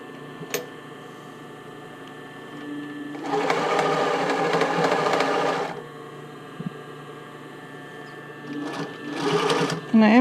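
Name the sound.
sewing machine sewing a zigzag stitch on a bra band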